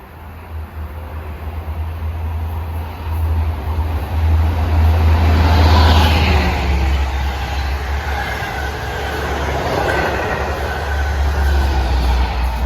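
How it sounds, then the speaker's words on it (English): A Long Island Rail Road train bound from Ronkonkoma to Penn Station rushes past on the triple-track line at Westbury during evening rush hour, a loud sustained roar with low rumble swelling and easing as the cars go by. "1971 from Ronkonkoma to Penn should be blasting by in the opposite direction"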